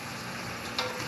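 Butter sizzling in a pan with vegetables, a steady hiss of frying with a faint stirring scrape, close and continuous, no voices.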